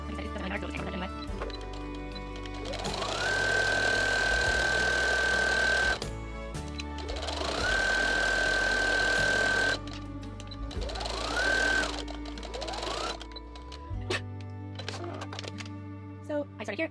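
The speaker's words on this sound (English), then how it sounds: "I'm just using a straight stitch." Sewing machine running a straight stitch on fabric for a DIY maternity dress form, heard as three loud sustained bursts of whirring and rapid needle clatter separated by brief pauses.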